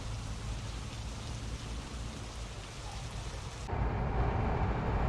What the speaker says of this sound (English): the rain doesn't show any sign of stopping